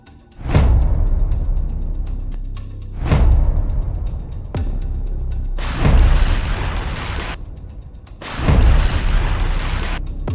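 A gunfire sound effect evoking the 1919 Jallianwala Bagh massacre: four heavy, booming blasts of shots, each followed by a long rumbling decay, loud and close with no voices.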